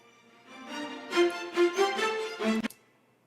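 An orchestral sample plays with heavy reverb on the wet signal, giving a few soft swelling tones that blur together and trail off in a diffuse, roomy tail.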